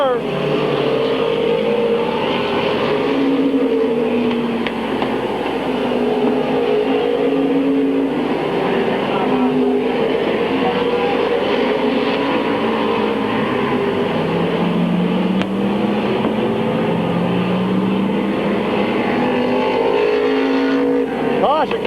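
Race cars circle a speedway in a dense, continuous roar of engines rising and falling as they lap, while an announcer talks over the noise throughout.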